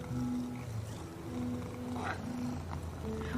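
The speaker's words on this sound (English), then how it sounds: "they purr when they are happy" A kitten purrs in a low, steady, rhythmic rumble that runs on without a break, quiet and close, with no voices.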